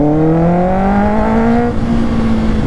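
Kawasaki ZX6R 636cc motorcycle pulling hard in second gear, its engine note climbing steadily in a loud, close, continuous whine and growl, then settling as the throttle eases, with no talking.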